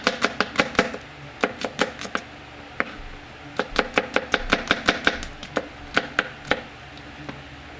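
A knife chops a single onion on a board in quick, crisp strikes. The strikes come in clustered bursts with short pauses between them, close and fairly quiet, with no talking.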